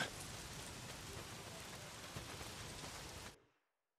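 Steady, dense rainfall in the video game Days Gone, a close and even hiss of drops that holds for about three seconds and then cuts off sharply into silence.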